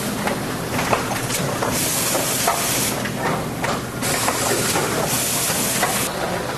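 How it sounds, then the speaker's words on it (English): An automatic filler machine fills sauce containers with steady, loud pneumatic hissing and whooshing, broken by irregular mechanical clicks and short bursts of release, with no voices. "Then it's pumped up automatically into a filler, which fills the container automatically"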